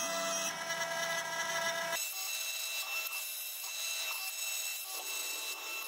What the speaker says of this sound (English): We're using a table vise to hold the keystone part while cutting a mortise in the side.